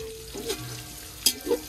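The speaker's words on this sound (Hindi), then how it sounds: "प्याज ते घ्यो पा दिता इन्हें" Onions frying in ghee over a village wood fire, with a soft steady sizzle broken by a few brief stirring scrapes and clatters, close and fairly quiet.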